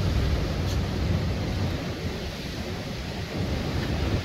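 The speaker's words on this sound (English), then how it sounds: "So when we get a big wave hit the end of the groin and" A big sea wave crashes against the end of a groyne on the coast, a broad, continuous roar of surf and spray with wind buffeting the microphone, steady and loud throughout.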